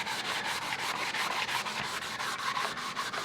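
Rhythmic back-and-forth scrubbing of a green scratch pad against a painted camouflage surface, a steady repeated rasp at an even quick pace, close up and alone.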